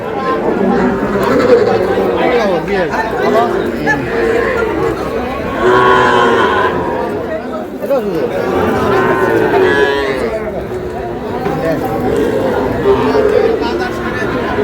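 Calves and young Sahiwal bulls low and moo repeatedly at a crowded livestock market in Lakshmipur, Bangladesh, loud and close amid continuous chatter from buyers and sellers.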